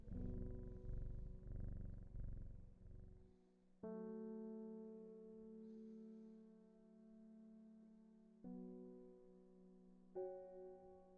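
A cat purrs steadily with a deep rumbling drone after being petted in the video game Strange Horticulture, the purr close and continuous, shifting pitch in a few steps, with no voices over it.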